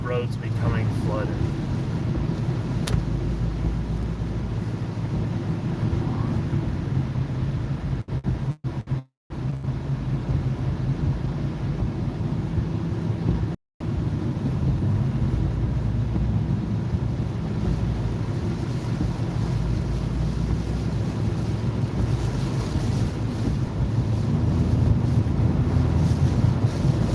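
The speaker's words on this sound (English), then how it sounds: "Wonderful sound of roads becoming flooded." Water swishing across flooding roads in a Central Texas thunderstorm, a constant rushing wash with wind buffeting the microphone, two brief dropouts, and someone talking over it.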